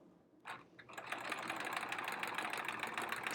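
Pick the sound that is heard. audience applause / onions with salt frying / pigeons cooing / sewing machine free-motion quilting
sewing machine free-motion quilting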